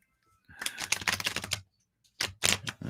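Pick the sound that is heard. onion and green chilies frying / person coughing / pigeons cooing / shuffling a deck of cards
shuffling a deck of cards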